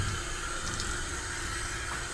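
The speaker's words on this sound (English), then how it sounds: "Let's make sure it's on shower and not on jet" A garden hose set to its shower spray pours water in a steady, close, hissing rush with no break.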